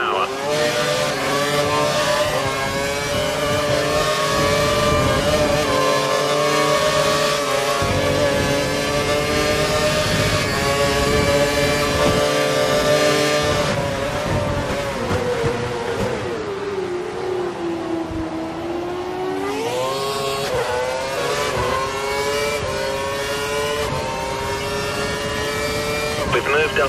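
Formula 1 race car engine held at full revs in the F1 2012 racing game, a loud continuous high-pitched whine with shifting harmonics and brief pitch dips, steady throughout.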